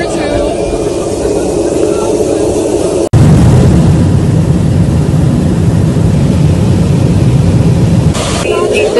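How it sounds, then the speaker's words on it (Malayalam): Inside the cabin of an Alaska Airlines jet carrying 171 passengers, after a window blew out in flight, a loud constant roar fills the space, broken by a sudden cut partway through before resuming even stronger. "171 യാത്രക്കാരുമായി വിമാനത്താവളത്തിൽ നിന്ന് പറന്നുയർന്ന വിമാനത്തിന്റെ വിൻഡോ യാത്രാമധ്യേ ഇളകിത്തെറിച്ചു"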